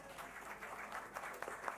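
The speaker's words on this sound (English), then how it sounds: "Big round of applause, folks." Audience at a local election debate applauding, a steady faint wash of clapping from a distant crowd with no talk over it.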